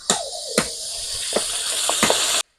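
Date palm jaggery goes into a hot wok (karai) for a tamarind pickle, giving a close, steady sizzling hiss broken by a few sharp clinks and scrapes.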